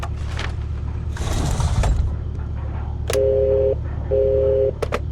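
Telephone dialing tones in the Security Booth video game: two long, steady beeps follow scattered clicks and a brief burst of noise, clear and fairly loud with no talking.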